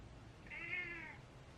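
A hungry cat gives one drawn-out, rising-and-falling meow, faint and alone against a quiet room hum.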